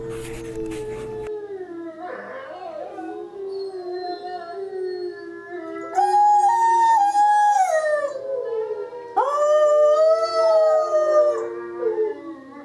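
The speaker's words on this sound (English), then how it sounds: "the whole pack rallies and again stimulates her to howl" A wolf pack howls together, with long rising and falling wails that overlap and layer as more wolves join in, loud and close, swelling into full chorus partway through.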